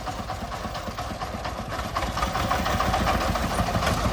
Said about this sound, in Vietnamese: Xe của ông được trang bị khối động cơ máy 40V các bạn nhé.